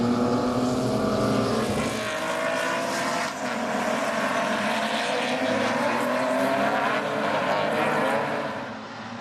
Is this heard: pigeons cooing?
no